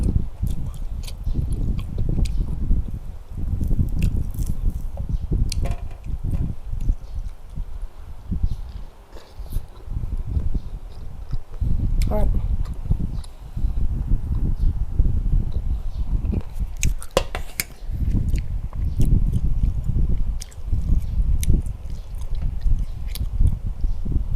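Close, crunchy chewing of a large dwarf honeybee nest, waxy comb full of bees and little honey, with steady moist bites and mastication running throughout, sometimes swelling into louder crunches.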